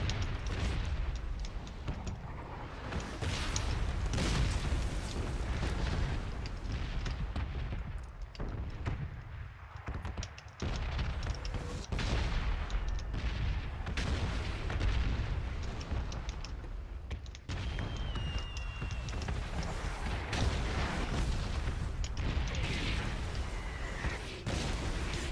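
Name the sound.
bombs exploding in red zone, from video game PUBG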